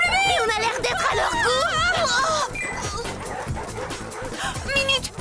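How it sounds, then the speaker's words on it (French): A pack of cartoon werewolves growls, snarls and yelps in a frantic chase, with layered animal voices and howls over busy action music and clamor. "lâchez la horde de loups!"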